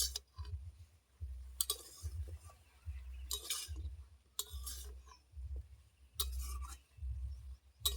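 A mixed vegetable curry with sweet potato and eggplant stirred in a pan, repeated rhythmic scraping and clinking strokes of a spoon against metal, close up, in bursts about every second with quiet gaps between.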